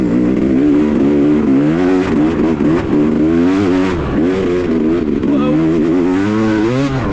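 A Yamaha YZ250 two-stroke dirt bike ridden hard on a motocross track in Greenbrier, Tennessee, its engine loud and close, revving and wavering in pitch continuously, with a brief exclamation from the rider.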